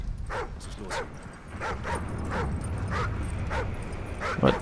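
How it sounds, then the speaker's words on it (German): Repeated barks from a German shepherd in the Call of Duty Ghosts video game, a steady series of loud, close barks over a rumbling game background. "Warum bellt der?"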